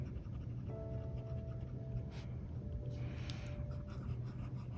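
A fine nib fountain pen, a Radius Settimo Marmo Bianco, writing on paper, producing faint, close scratchy strokes in an irregular rhythm over a soft steady background hum.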